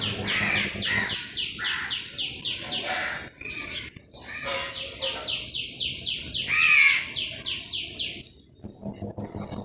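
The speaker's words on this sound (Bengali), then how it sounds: "বাগানে সকালে পাখিদের ডাক" Garden birds sing in the early morning, with a bright, repeated run of clear whistled notes in quick phrases, close and prominent over a quiet background.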